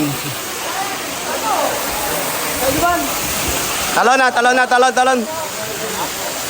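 Water rushes steadily at Antong Falls in Sison, Pangasinan, a constant broadband roar, while voices and bursts of chatter rise over it toward the end.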